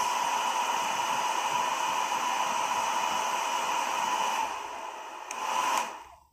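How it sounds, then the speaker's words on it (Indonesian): A hair dryer on its strongest, hot setting blows a loud, steady rush of air with a high whine, then is switched off and spins down to silence at the end. "panasnya mungkin ya karena hair dryer kan fungsi utamanya sebagai pengering ya"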